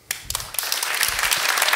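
Applause breaks out suddenly at a startup day award ceremony as a scholarship winner is named, a few sharp early claps quickly swelling into dense, loud crowd clapping that holds steady.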